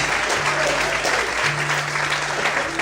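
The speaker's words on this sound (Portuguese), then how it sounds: "Desocupe sua mão, aplauda ao Senhor, glorificando e bendizendo em nome de Deus." A church congregation claps steadily throughout, a continuous dense patter of many hands under a faint sustained tone, loud and close.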